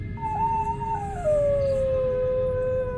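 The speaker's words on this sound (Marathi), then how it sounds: "गावात कुत्री ओरडत होती." A single dog howls in a village at night, a long wavering cry that starts high, dips and slides lower as it trails off, heard at mid distance over a low background hum.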